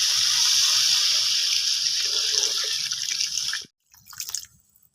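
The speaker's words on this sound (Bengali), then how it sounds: "এবার দিয়ে দেবো জল" Water poured into a cooking pot of sautéed potatoes and spices, a loud bright splashing gush that runs steadily for several seconds, then stops abruptly and gives way to a brief softer sizzle and bubbling.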